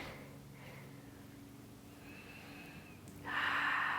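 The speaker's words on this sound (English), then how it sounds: "So please go ahead and take 3 deep breaths in." A slow, deep inhalation swells near the end, breathy and close, after quieter airy breaths earlier over a soft, steady ambient drone.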